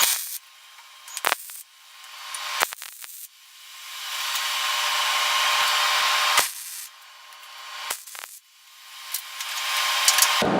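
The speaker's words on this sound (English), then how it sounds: "I'm trying to weld this nut onto here" Tack welding a nut onto a steel bed frame gives a loud, steady crackling hiss in several bursts of varying length, separated by short pauses and clanks.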